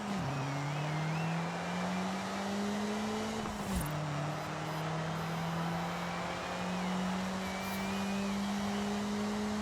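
An all-wheel-drive Toyota Celica GT-Four races in Forza Horizon 5. Its engine holds a loud, steady droning note that climbs gradually, drops sharply at one gear change midway, then climbs again.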